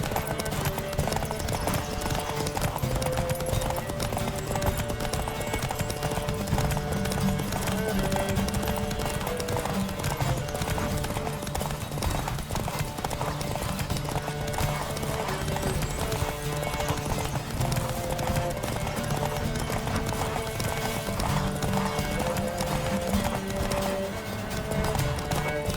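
Horses gallop in a race in The Witcher 3 video game, a dense continuous clatter of hooves with occasional whinnies over a constant bed of music and game sound, loud and unbroken throughout.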